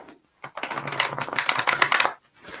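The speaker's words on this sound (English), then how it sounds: "Are you ready for the shuffle, Leanne?" A deck of oracle cards is shuffled by hand, a quick, crisp riffling flutter that lasts about a second and a half, close and clear with no talking.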